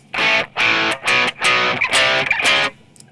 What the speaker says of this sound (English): So this is a trick that I use a lot, is putting a distortion after the amp.